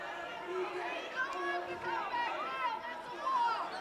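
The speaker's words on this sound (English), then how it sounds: "You can hear the crowd behind me." A loud crowd at a college basketball game keeps up a steady roar and chatter in an arena, heard behind a close announcer's voice.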